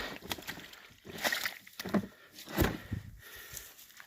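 Water from a fishing catch is poured out under a small tree outdoors, giving faint, irregular sloshing and splashing bursts in quiet surroundings.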